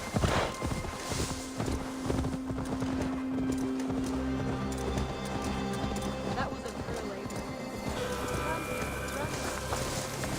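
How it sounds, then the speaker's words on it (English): Horse hooves clip-clop in Assassin's Creed Valhalla, a steady rhythmic trot carrying through the whole stretch beneath in-game music and ambience, with some game dialogue layered on top. "Now to deliver Magni his horse."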